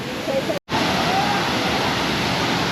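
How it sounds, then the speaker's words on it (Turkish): Kawasan waterfall, 14 metres high and falling into a clear pool, roars as a loud, steady broadband rush close by, interrupted by one brief dropout near the start. "Ve işte Kavasan şelalesi burası."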